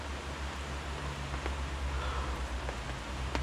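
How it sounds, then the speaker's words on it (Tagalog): Heavy rain falls on a forest campsite with a tent and tarp, a dense, constant hiss with no letup, plus a faint low hum underneath. "Ang lakas ng ulan."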